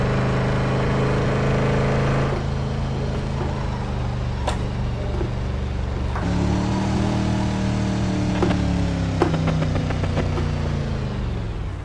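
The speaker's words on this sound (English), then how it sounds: "Sounds like the engine's gonna blow up." Game Mustang engine in a PS4 driving game revs and strains, a continuous droning motor tone that climbs in pitch, drops after gear changes and climbs again, with a few sharp clicks.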